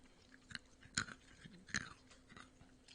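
Quiet, close crunching as someone chews crunchy corn nuts, with a few sharper bites standing out.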